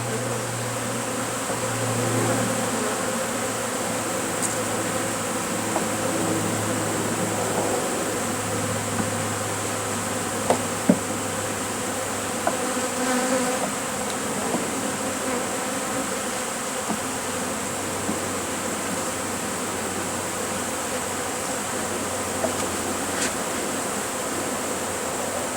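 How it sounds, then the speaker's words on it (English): A dense, continuous buzz of many honeybees flying around after being removed from a family room ceiling with a bee vacuum, steady and close, with occasional faint clicks and no talking. "All the bees are flying."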